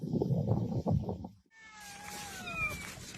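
Kittens meow in a wagon, several high, drawn-out mewing calls layered together close by, after a brief stretch of muffled rustling.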